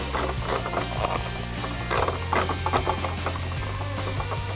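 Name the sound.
screwing on the rear wing of an RC car body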